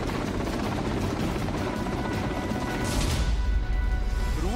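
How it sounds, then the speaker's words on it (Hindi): Loud, steady rotor roar and engine drone from a Russian KA-52 attack helicopter during an air strike on Ukrainian military sites, continuous throughout with a heavier low rumble near the end. "रूसी सेना का सबसे खतरनाक KA-52 हेलीकॉप्टर एक के बाद एक यूक्रेन के सैन्य ठिकानों को नेस्तनाबूद करता हुआ नजर आया"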